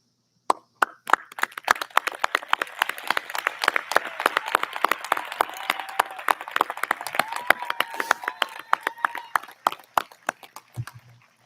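Applause for cum laude graduates at a high school commencement, starting as a few sharp separate claps, swelling into a thin crowd clapping, then thinning back to scattered claps before fading out.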